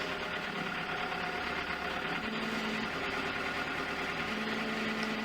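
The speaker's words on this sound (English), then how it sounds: "the heart of this drilling rig is its engine, diesel engine of 80 horsepower" An 80-horsepower diesel engine powering a wet drilling rig runs steadily, giving a continuous, even drone with a faint rumble and no pauses.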